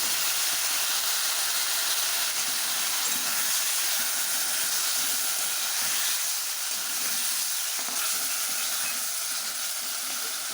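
Spices fry with potatoes in hot oil, a steady, close, even sizzling hiss that continues without a break.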